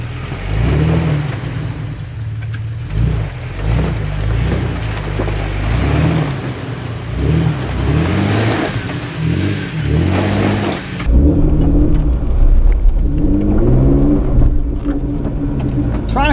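An off-road vehicle with tyres aired down to about 10 psi revs hard while climbing, the engine surging and rising in repeated pulls, loud and close, with wind buffeting and a voice speaking briefly.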